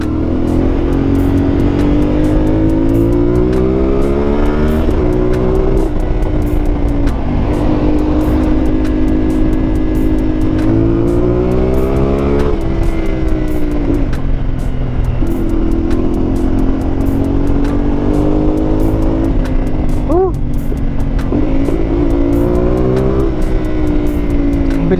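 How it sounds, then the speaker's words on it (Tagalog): A 450 MT motorcycle engine revs up toward redline close by, loud and continuous, its pitch climbing and falling through repeated throttle blips. "Bilis mag-redline, ganda ng engine nitong 450 MT."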